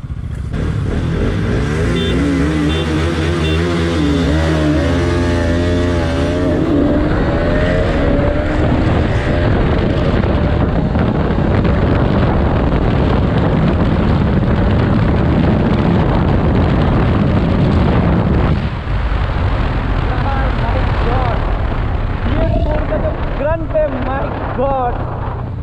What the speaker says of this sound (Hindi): BS4 का जो ग्रंट है यार, नेक्स्ट लेवल ग्रंट है इस गाड़ी का।